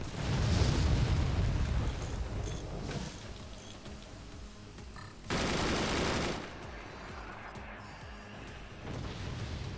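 Sustained machine gun fire in the video game Forts, a dense rattling barrage with rumbling blasts mixed in, loud at first, easing off, then a sharp louder burst near the middle before fading back.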